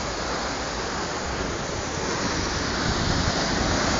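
Rough sea waves crash against the rocks at Anchieta on the Brazilian coast in a loud, continuous roar of surf, close by and swelling toward the end, with no voices.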